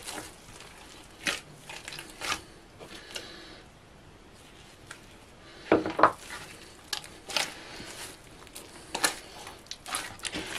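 Dough being mixed and kneaded by hand with butter, soft sticky slaps and squishes with occasional sharper clicks, close and fairly quiet, with no talking.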